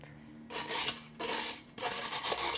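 Scooping PON mineral substrate against a strainer gives three bursts of gritty, granular scraping and rubbing, close and moderately loud, with brief quiet gaps between them.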